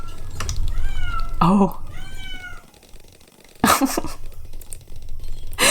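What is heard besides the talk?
cat meowing outside the door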